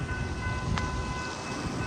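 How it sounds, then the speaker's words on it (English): A TEXRail commuter train passes through Grapevine, giving a steady, close, rumbling roll of wheels on track with a brief high squeal partway through and no voices. "You got the Tex Rail coming through in Grapevine, picking up some passengers"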